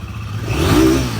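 A motorcycle engine close by revs up briefly, rising to a throaty whine and easing off, a short burst with no one speaking.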